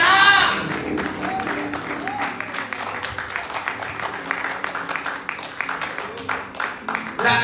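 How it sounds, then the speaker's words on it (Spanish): A church congregation at an evangelical service breaks into applause, a dense patter of clapping that builds steadily over several seconds while a preacher's voice is heard faintly at the start. "Den aplauso."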